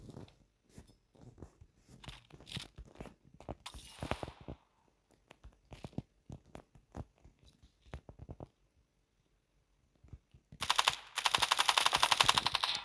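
Gunfire in the mobile shooter Standoff 2 comes as bursts of sharp, rapid shots with short pauses between them, ending in a loud, dense burst of automatic fire.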